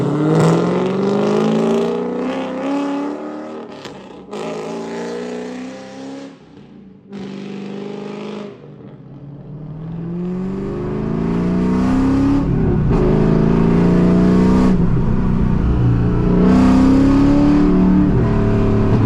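Loud cammed, lowered Chevrolet Corvette V8 heard from close by, with a deep lumpy idle and repeated revving and acceleration pulls, some gaps between throttle bursts, building to a sustained roar near the end.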